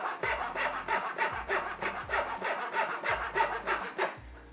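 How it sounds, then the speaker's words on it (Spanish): A handsaw cuts wood with short, rapid strokes using just one small section of the blade, a rhythmic rasping back-and-forth, close and loud, about eight strokes in a row. "obcecarnos en cortar única y exclusivamente con esta parte de la sierra"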